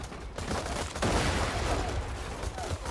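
Dense, continuous gunfire from many enemies in the video game Borderlands 2 crackles for three seconds as overlapping shots from several weapons.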